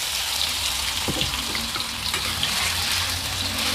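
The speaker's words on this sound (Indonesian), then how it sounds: "aku mau oseng-oseng tahunya dulu setengah matang" Tofu stir-fried in a pan until half cooked gives a steady, loud sizzle and crackle, with occasional light scrapes of stirring, close and continuous without talk.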